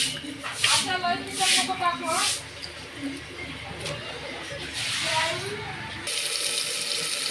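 Water pours into a pot in the kitchen while cooking a spicy moth bean curry, a continuous close splashing stream with someone talking over it.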